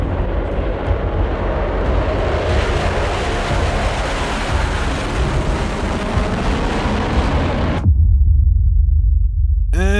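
Concorde jet engines roar in a flight simulator game, a loud dense rumbling thrust that swells and holds steady, then cuts abruptly near the end to a low hum.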